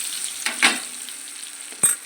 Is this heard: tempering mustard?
yes